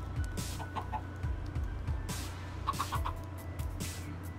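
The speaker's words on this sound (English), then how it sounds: "There's a baby. Baby chicken. Baby chickens." Chickens cluck and chirp in a Minecraft farm, several soft birdlike calls repeating over a steady low background hum, faint and close with no voices.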